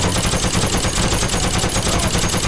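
Rapid, continuous .50-calibre machine gun fire in a video game, a loud dense rattle of shots pounding without pause from start to finish.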